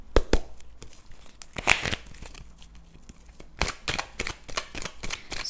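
Tarot cards are drawn and handled during a weekly reading, giving a series of sharp close card snaps, slides and papery crinkles in irregular bursts, with no voices heard.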